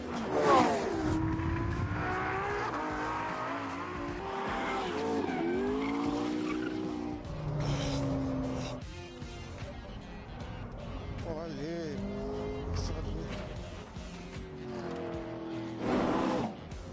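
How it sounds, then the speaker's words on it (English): Race cars are driven hard around a test track, with repeated tire squeals and skids over revving engines that rise and fall through several sweeps, loud and continuous. "took the cars out to get a sense of how they handled."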